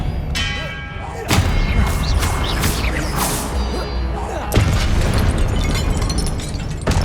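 Confringo spell blasts in Hogwarts Legacy combat: two loud booming explosions a few seconds apart, each followed by rumbling debris and crackle, with layered game effects between.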